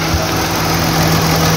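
A three-cylinder gasoline car engine in good condition idles steadily up close, a constant even hum with no talk over it.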